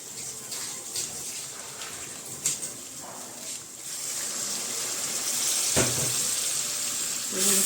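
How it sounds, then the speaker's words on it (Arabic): Half a cup of water splashes into a cooking pan, a noisy gushing pour that swells in the second half, with kitchen clatter in the background. "حط لها نص كوبايه ميه"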